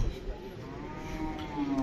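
Cattle at a busy village cattle market low and moo amid constant crowd murmur, the calls sounding as drawn-out tonal lowing that swells toward the end of the short stretch.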